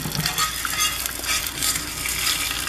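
Eggs fry in a hot skillet with a steady, close sizzle and crackle that holds at an even level from start to finish, with no voices.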